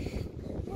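Steady, loud seaside wind at Jastrzębia Góra buffeting the microphone with a low rumbling roar, continuous throughout the short moment.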